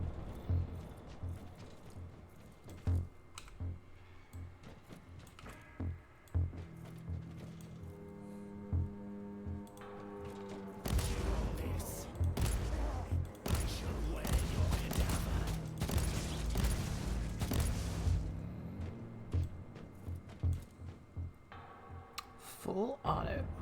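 Video game combat with full-auto weapon fire and a fragmentation burst: scattered sharp shots give way to a dense, sustained roar of rapid fire and blasts in the second half, with some talk over it.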